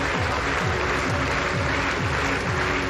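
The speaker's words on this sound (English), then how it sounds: "the rhythmic hand clapping has now begun." A stadium crowd at an athletics meet joins in rhythmic hand clapping for an athlete, steady slow beats about every half second over a constant loud roar of the crowd.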